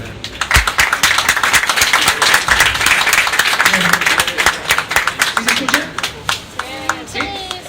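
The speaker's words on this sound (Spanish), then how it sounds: "el maestro José Luis Navarrete Heredia, para quien pide un fuerte aplauso." A strong round of audience applause at an evening talk on insects, dense clapping sustained across the clip with some voices mixed in, tapering slightly toward the end.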